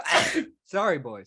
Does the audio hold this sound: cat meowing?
no